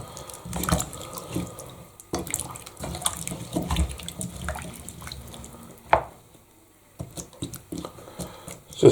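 Water from a tap pours into a soup pot of winter vegetables, running in uneven splashing bursts with short pauses, drips and a few close clanks of the pot.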